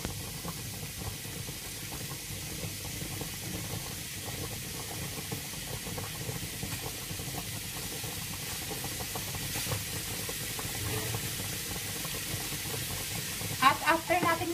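Beef steaks seasoned with salt and pepper fry in a pan with a faint, steady sizzle that holds at low level throughout, and a few small clatters come near the end.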